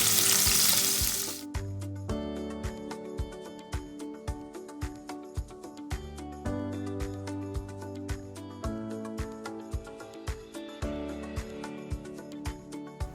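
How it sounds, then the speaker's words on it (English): Bitter gourd pieces deep frying in hot oil, a steady close sizzle opening with a loud hiss, then regular scraping and stirring knocks through the rest. "Let's fry the remaining bitter gourd."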